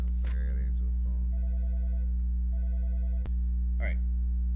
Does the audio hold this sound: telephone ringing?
yes